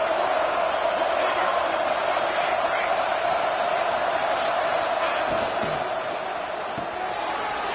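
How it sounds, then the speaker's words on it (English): Football stadium crowd rising in a sustained cheer as the defense digs in near its own goal line, a broad, even roar that thins slightly toward the end. "the crowd coming to life here, trying to help this defense down in the red zone"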